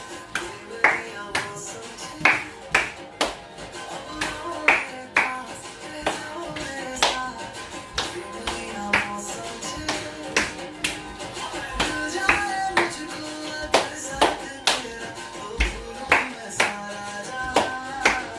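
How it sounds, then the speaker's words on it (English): Rhythmic hand claps during an Indian dance routine for health, sharp claps in repeated groups over music, with a voice calling out between them. "The 3 claps. 1, 2, 3."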